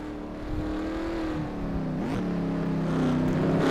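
A race car engine in a NORA Red Bull Cup Series race at Bathurst roars continuously, dipping briefly as it downshifts through the chicane, then pulling away with rising revs.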